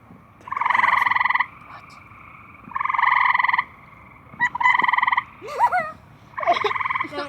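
Frogs croaking in a backyard at night, four loud buzzy calls in a steady rhythm, each lasting about a second, close by, with brief chirps between them over a low background hum.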